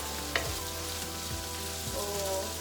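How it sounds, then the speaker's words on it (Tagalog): Aromatics sizzle steadily as they are sautéed in a pan for chicken à la king, a constant frying hiss with a few light clinks and scrapes of stirring. "habang nagigisa, antayin lang natin na lumabas yung lasa"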